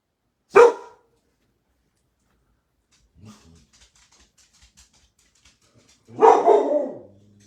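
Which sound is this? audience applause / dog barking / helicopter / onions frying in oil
dog barking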